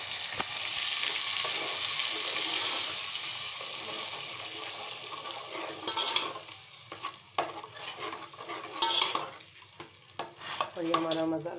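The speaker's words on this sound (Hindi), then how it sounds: "तो चलें पापड़ तल के फिर हम करते हैं। तेल गरम है," Papad sizzles in hot oil, a dense steady hiss that later turns patchy with sharp scrapes and clatters of a stirring utensil, close and loud, with no speech.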